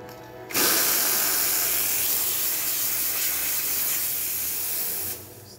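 A loud, steady steam hiss from the steam wand of a Quickmilk Vetrano 6620 coffee machine bursts on abruptly, holds for about five seconds, then cuts off.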